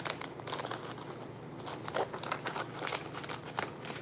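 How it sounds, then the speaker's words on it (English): A packet crinkles and rustles with crisp snipping as scissors cut it open, a close, busy run of crackly sounds without talking. "I need scissors."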